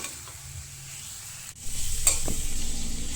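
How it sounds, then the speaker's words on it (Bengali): Garlic and ginger frying in a pan hiss steadily, with a brief scrape of stirring and a louder burst of sizzling partway through that carries on to the end. "রসুন আর আদা কাঁচা গন্ধটা যেন চলে যায় এরকম ভেজে নিতে হবে"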